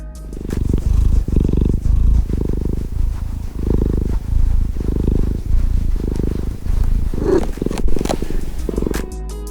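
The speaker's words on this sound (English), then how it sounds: "I wonder if you can hear her purring." A house cat purrs close by, a steady low rumbling in rhythmic pulses, one per breath, continuing throughout without any talk.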